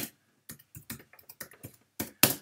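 Typing on a computer keyboard to fill in an event form, bursts of quick close key clicks with short pauses between words, no voices.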